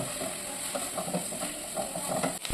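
Ginger garlic paste fries in oil in a pan, giving a steady soft sizzle with faint scraping stirs, close and fairly quiet, with no voices.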